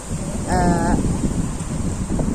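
Strong wind blows through a vegetable garden in France, roaring steadily against the microphone as a continuous buffeting rush, with a brief tonal squeak near the start.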